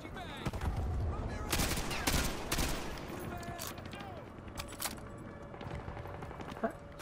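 Rapid bursts of automatic gunfire and scattered single shots fill a firefight in Modern Warfare 2 Remastered, on the Wolverines mission, with loud volleys early on and sparser, more distant shots afterward.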